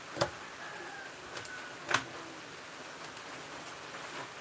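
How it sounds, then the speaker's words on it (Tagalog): Rain falling over the countryside, a soft, steady wash of noise with a few faint scattered drip ticks, fairly distant and quiet, no voices. "dahil maulan ngayon eh"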